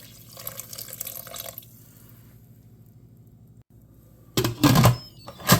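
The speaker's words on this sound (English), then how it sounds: "we're just going to pour in some water to cover." Water splashes and pours into a pressure cooker pot over carrots in two bursts, a softer stream first, then a louder, gurgling pour after a quiet pause.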